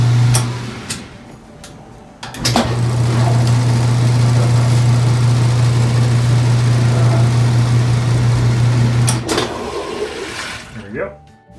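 A Whirlpool washing machine running in its spin cycle after a motor coupler repair, giving a loud steady motor hum and whir that starts abruptly and winds down near the end, heard close up.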